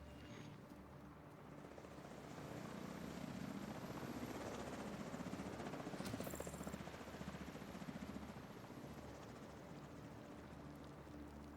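A helicopter in the video game The Division 2 flies over the Potomac, a continuous rotor drone that swells gradually, peaks midway and eases off slightly, with no voices.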